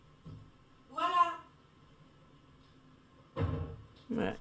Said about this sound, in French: Et là, vous entendez, on a fermé la porte